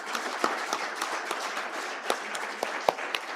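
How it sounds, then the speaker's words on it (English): Audience applause fills a conference hall at a European cybersecurity certification event, a steady dense clapping that carries on throughout with a few sharper individual claps standing out. "Please applause."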